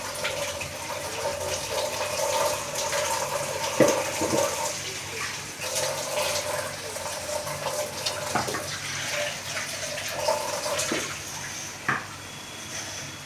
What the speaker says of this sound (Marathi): ह्याच्यामध्ये पाणी टाकून घेऊया